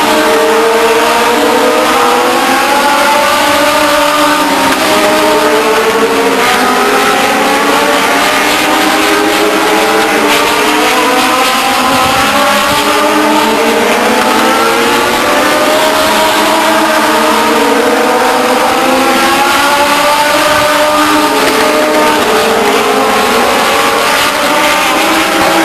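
Legends race cars at Stockton 99 Speedway roar around the oval in a loud, continuous pack, engines rising and falling in overlapping revving waves as the cars run together through the turns.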